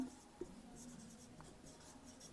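Pen or pencil scratches across paper while a math problem is written out, faint and close, with short strokes and small taps in an otherwise quiet room.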